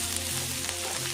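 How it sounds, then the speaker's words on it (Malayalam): Chopped onion frying in hot oil over popping mustard seeds, a tempering for an okra dish, gives a steady, close, dense sizzle with no voices. "ഉള്ളി അരിഞ്ഞ് ഇടുന്നു."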